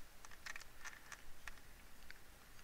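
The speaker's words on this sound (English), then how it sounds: "you may hear me typing on my calculator." Faint, sparse clicks of calculator keys being pressed, a few scattered taps over a quiet background.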